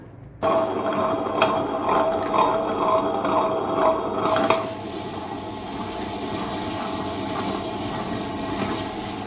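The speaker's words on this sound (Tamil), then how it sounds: "இப்போ கிரைண்டரில் ஆட்டி எடுத்துகிட்டு வந்துடுவோம்" A wet grinder churns soaked rice and urad dal into batter, giving a steady mechanical whir with a sloshing, watery texture. The noise sets in abruptly, runs continuously and close, then settles into a slightly duller drone.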